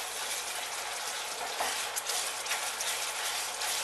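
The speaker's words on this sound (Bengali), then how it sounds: "মশলা কিন্তু খুব ভালো করে কষতে হবে যাতে মশলা থেকে তেল ছেড়ে বেরিয়ে আসে।" Spices frying in hot oil while being stirred for a yogurt-based rohu fish curry, giving a steady, close hiss of sizzling with faint scraping stir noises throughout.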